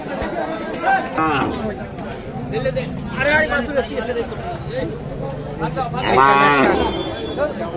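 Cows and calves at a rural cattle market in Kaharol, with one cow lowing loudly near the end amid steady buyer and seller chatter and crowd babble.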